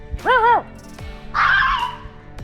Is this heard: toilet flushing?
no